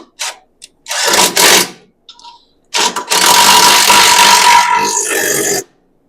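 Bolts on a steering box tightened down during suspension fabrication give short mechanical bursts of ratcheting or power-tool whirring, then two longer, loud continuous runs, close up with no talk.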